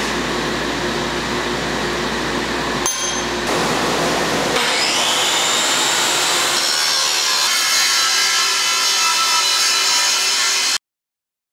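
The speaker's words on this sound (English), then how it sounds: "hit these with the big angle grinder a little bit and level out some of these layers" A big angle grinder levels the uneven layers of a hot Damascus steel billet for a medieval sword. It gives a steady, loud abrasive whir that shifts pitch as the disc bites, then cuts off abruptly.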